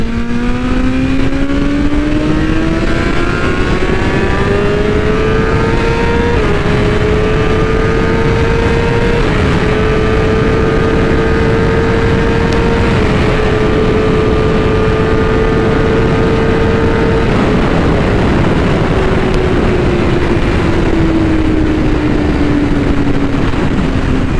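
A BMW M1000RR motorcycle ridden hard, its loud engine note climbing and shifting through gears in a continuous close howl with strong wind rush, no talking.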